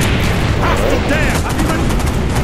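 Rapid gunfire crackles in the Call of Duty Black Ops video game, loud and dense throughout, with bursts of shots and game voices and sounds layered over the firing.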